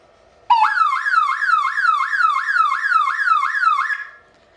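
Electronic alarm siren driven by a 5 V transistor circuit switching 110 V, a loud warbling tone rising and falling rapidly in a steady cycle for about three and a half seconds, then cutting off.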